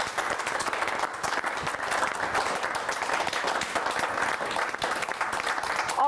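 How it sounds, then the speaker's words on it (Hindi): Audience at a poetry gathering claps steadily to welcome a poet, a sustained dense wash of many hands with no talk over it. "आइए जोरदार तालियों से स्वागत करते हैं कविता तिवारी"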